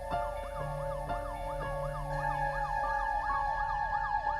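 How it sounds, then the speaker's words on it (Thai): A video game police car siren wails, rising and falling in a fast, steady cycle, loud and close, with a low engine drone beneath and no voices. "เดี๋ยวรถตำรวจมา มันจะพุ่งมาฆ่ากูไหมเนี่ยได้ยินรถตำรวจ"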